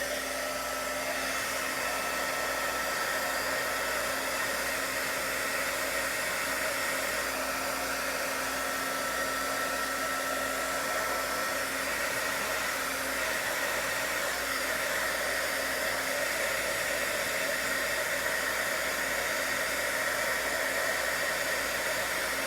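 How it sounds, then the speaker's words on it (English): An embossing heat gun blows hot air in a continuous, even whooshing roar, loud and close, steady for the full stretch with no speech. "Now I'm going to just turn on my heat tool."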